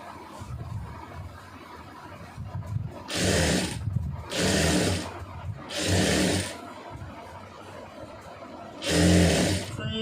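A sewing machine stitches a blouse neckline in repeated bursts of about a second each, with pauses between runs, under a quiet spoken voice.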